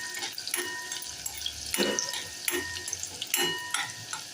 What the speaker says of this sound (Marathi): आपण बारीक चिरलेला कांदा घालूया छान कांदा एकदम लालसर फ्राय करून घेऊया